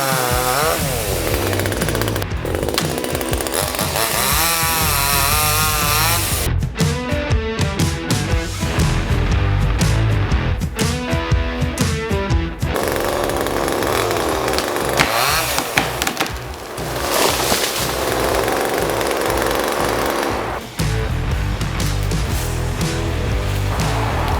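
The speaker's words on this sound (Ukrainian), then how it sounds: "Зараз спробуємо, як буде з ним справлятися пилка." A StartPro mini chainsaw roars steadily for a long stretch, its engine pitch rising and dipping as it bites into a dry dead tree about 35-40 cm thick, loud and close with brief lulls.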